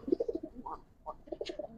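Racer pigeons giving short, low throaty coos nearby, a few quick pulsing notes in under two seconds with a brief higher chirp near the end.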